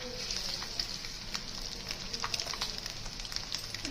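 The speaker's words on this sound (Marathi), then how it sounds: "फ्राय करून घेऊया" Egg curry masala with turmeric, coriander powder and a little salt sizzles and fries steadily in a pan, a continuous close crackle with small pops, no voices.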